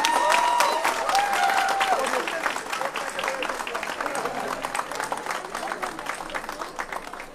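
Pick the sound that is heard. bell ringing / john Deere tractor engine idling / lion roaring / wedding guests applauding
wedding guests applauding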